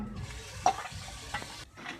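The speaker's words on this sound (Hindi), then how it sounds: "पानी डाल दिया है।" Water is poured into a cooking pot on a village chulha, a faint, continuous splashing and gurgling with a couple of small clinks, heard alone.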